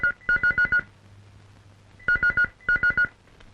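An electronic telephone ringer trills indoors in three bursts of rapid, even pulses, separated by short pauses over a low steady hum, with no talk.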